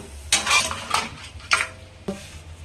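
Squid, corn and vegetables in a pot being mixed with a metal utensil, giving four sharp scraping clanks against the pot with a faint sizzle beneath.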